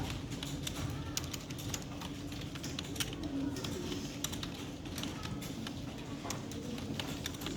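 Keys tapped on a computer keyboard while a prompt is typed, a continuous quick patter of clicks close by under a steady background hum, with people talking quietly around it.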